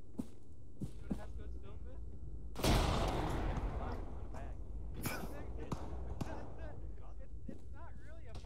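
Frag grenade blast in Arma 3, one sudden broad burst a few seconds in that rings out briefly, with a couple of smaller cracks and talk over a low rumble.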